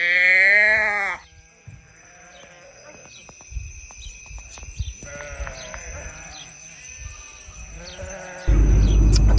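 A black sheep gives one loud, wavering bleat at the start in the Sardinian mountains, followed by quieter rustling and scattered clatter, then a sudden loud burst of noise at the end.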